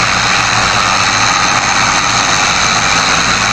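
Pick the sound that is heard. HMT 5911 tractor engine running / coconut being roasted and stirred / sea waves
HMT 5911 tractor engine running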